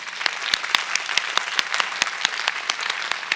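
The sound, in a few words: audience applause for award winners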